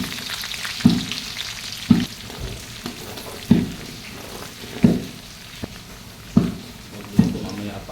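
Garlic and onion sizzle in oil for Filipino fried rice, a steady crackling fry with repeated stirring clanks roughly every second, close and loud.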